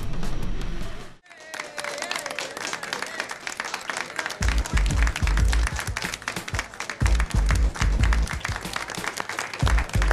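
Studio audience applause on a local talk show, a dense, sustained wash of clapping that follows a brief cut and runs throughout, with some crowd noise and low thumps underneath.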